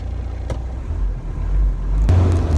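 A Toyota Land Cruiser FJ40 engine fires up after brief cranking and settles into a steady, close idle, heard alone with no talk.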